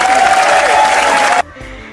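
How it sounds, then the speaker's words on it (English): Audience applause for a guest on a student talk show in a physical education class, a dense burst of clapping that cuts off abruptly after about a second and a half, leaving a quiet room. "Let's give him a round of applause."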